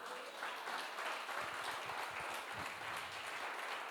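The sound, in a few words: congregation applause praising Christ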